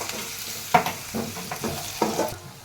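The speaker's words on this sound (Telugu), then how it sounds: "పెట్టుకున్న పుదీనా, పసుపు వేసి ఒకసారి కలుపుకోవాలి." Mint leaves and turmeric fry in a pan while a spoon stirs them, producing a low continuous sizzle broken by several sharp scraping knocks against the pan, close and clear, with no talking.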